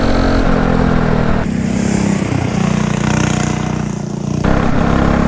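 A go-kart with a Predator 212cc engine buzzes loudly on a track, close up, its droning pitch dipping and rising as it speeds along.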